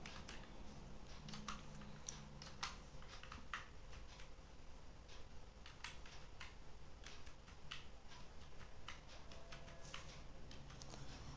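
Numbers are typed on a computer keyboard into a Microsoft Word table. The keys make a steady run of light, close clicks and taps for about eleven seconds over a constant background hiss, with no talking.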